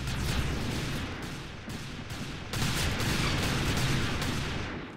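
Gunshots crack repeatedly in a loud, dense volley that keeps going with no pause, close and heavy, with no voices.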